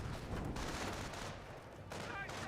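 Gunfire in the Company of Heroes game during a battle with Bolshevik infantry in a trench: rapid bursts of distant shooting and explosions under a low rumble, continuous through the moment.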